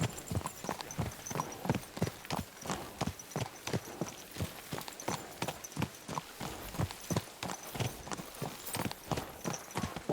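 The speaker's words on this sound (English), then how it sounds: "My, what a beautiful horse!" Steady, rhythmic clip-clop of horse hooves walking on a hard surface in the video game Kingdom Come: Deliverance II, close and clear, continuing evenly throughout.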